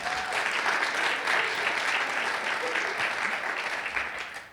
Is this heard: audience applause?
yes